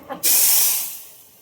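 Tempering of chili in hot oil poured onto dal for Burhanpur dal bursts into a loud, close hiss that starts abruptly after a brief clink and then slowly fades.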